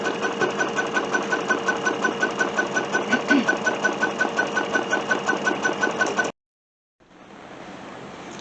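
A sewing machine stitches down fleece for a fabric bunting, running steadily with a fast, even rhythmic chatter for about six seconds, then stopping abruptly; after a short silence, faint room noise follows.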